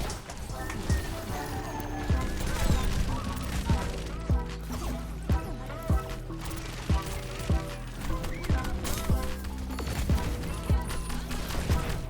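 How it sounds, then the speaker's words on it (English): Bastion's rapid gunfire in the Overwatch video game, dense bursts of shots over a busy mix of game effects and music, with a voice talking over them. "there's a Bastion ready to gun him down"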